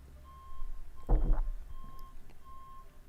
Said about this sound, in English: Also, there's a truck right outside,